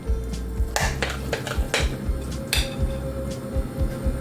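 A spoon scrapes and clinks against a bowl of onion fritter batter in quick repeated strokes, with a soft wet squish underneath.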